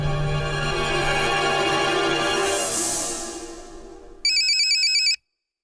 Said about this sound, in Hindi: अरे मुख्यमंत्री जी का फोन।